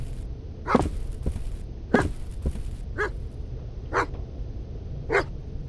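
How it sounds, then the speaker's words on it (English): A dog in the horror video game Stay Out of the House barks in single spaced barks, about five over several seconds, at moderate distance over a low ambient rumble, with no talking. "What are you barking at, buddy?"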